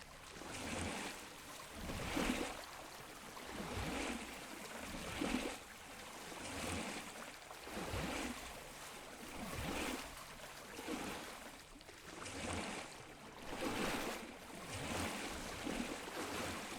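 Water sloshes and laps in rolling, wave-like swells in the Pools video game demo, faint and steady with soft rhythmic surges and no talking.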